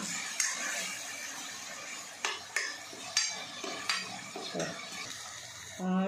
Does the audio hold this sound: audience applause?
no